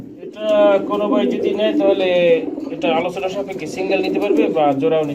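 Male and female pigeons at a breeding farm coo nearby in soft, repeated bursts, mostly under a person talking steadily over them.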